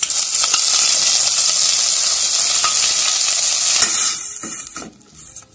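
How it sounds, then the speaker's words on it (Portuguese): Shrimp sautéing in olive oil in a hot pan give a loud, close, constant sizzle with light stirring scrapes, easing off in the final second. "Vou refogar esse camarão mais ou menos uns 5 minutinhos"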